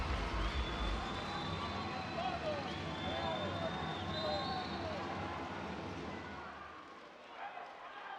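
Arena crowd at a basketball game between Halcones de Xalapa and Gladiadores de Anzoátegui cheers after a made corner three, a loud, dense roar of voices that holds steady and then fades toward the end.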